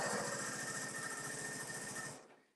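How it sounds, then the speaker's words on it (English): A sewing machine backstitches in reverse over a seam, making a rapid, even mechanical chatter close up that runs for about two seconds and then stops. "I'm telling my sewing machine to reverse back and go back over that same area"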